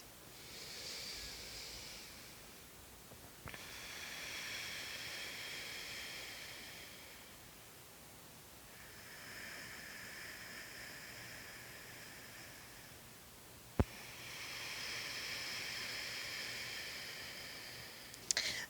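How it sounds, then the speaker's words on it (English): Slow, deep breaths during a restorative yoga session, each long airy inhale or exhale swelling and fading in turn, soft and close, with no talking. "Pause here, take 2 deep breaths."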